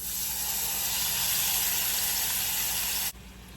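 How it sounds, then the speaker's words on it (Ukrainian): Pieces of beef fry in a well-heated frying pan, giving a loud, steady, close-up hissing sizzle that runs for about three seconds and then drops off sharply. "Наше м'ясо смажиться на добре розігрітій пательні від 5 до 8 хвилин."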